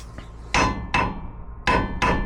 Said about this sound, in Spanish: Si escuchan un ting, es que el tornillo está suelto. Si escuchan un dum sólido, es que el tornillo está apretado.